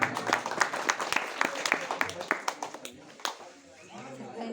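Audience applause at a gathering, a dense crowd of hand claps that is loud at first, then thins and fades toward the end as a voice begins to talk over it.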